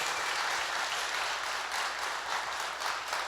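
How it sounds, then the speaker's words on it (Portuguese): Steady applause from a crowd at a Progressistas party gathering in Veranópolis, greeting the municipal mayor. Dense, continuous clapping holds at an even level throughout, with no voices over it. "Salva de palmas para esse cara lutador."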